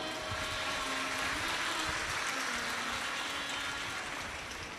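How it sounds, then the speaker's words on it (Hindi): Crowd applause at a Hindu Shiv Mahapuran religious discourse, a steady dense wash of clapping that fades slightly at the end. "एक बार जोरदार ताली बजाओ"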